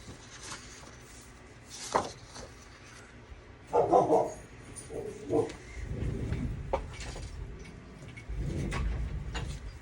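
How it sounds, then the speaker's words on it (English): A dog barks nearby indoors, giving a few sharp barks and a short cluster of yips, with whimpery sounds and low rustling between them. "Every time I make a video, she barks."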